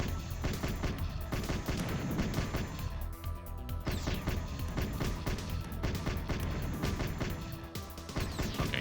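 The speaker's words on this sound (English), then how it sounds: "Okay, now we're shooting." Rapid, loud gunfire from shooting in Quake 2, with bursts of cracking shots and heavy crashing impacts rattling almost nonstop with only brief lulls.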